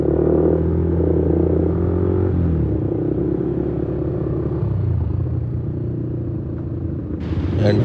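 A group of sport motorcycles, including Yamaha R15 V3 and V4 and a KTM RC200, ride together on a Sunday event run, giving a steady, close engine rumble that shifts pitch as the bikes change speed.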